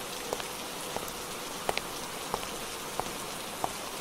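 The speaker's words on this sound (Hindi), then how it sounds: "इतनी तेज बारिश होने लगती है कि पूछो मत" Heavy rain falls steadily in a dense, even hiss, with scattered sharper drops striking a surface up close, and no voices.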